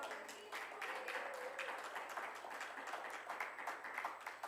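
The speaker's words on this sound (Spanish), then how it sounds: "Denle un aplauso." Audience applause at a church sermon, a sustained, fairly faint wash of many hands clapping from a distance with no clear rhythm, continuing for several seconds.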